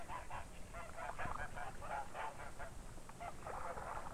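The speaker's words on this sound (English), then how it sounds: "Geese are as much at home in water as on land." Geese on a farm honking in a steady flurry of short, overlapping calls, fairly close and moderately loud over a soft background hiss, heard alongside a narrating voice from an old recording.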